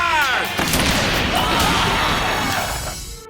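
Dramatic gunfire sound effect of soldiers firing on protesters during the Kakori uprising, a dense loud burst of booming shots and crashes lasting a few seconds.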